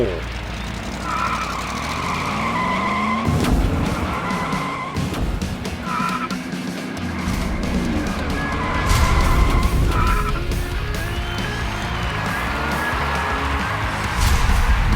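Diecast toy cars in a race-tournament heat speeding down a track, Ford GT among them, with repeated whooshing runs, rattling plastic clatter and squeal-like sweeps, joined by a voice talking over parts of the action.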